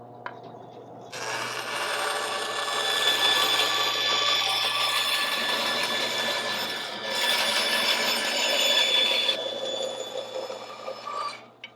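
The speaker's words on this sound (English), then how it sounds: "With a line drawn on there, I can now go over to my bandsaw and I'm going to rough cut that out." A bandsaw rough cuts a wooden deck beam for a 2.4mR sailboat, giving a steady, close whine and rasp that rises as the blade bites and drops off near the end.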